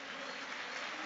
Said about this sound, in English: now there will be a minute of applause for Franny Lee.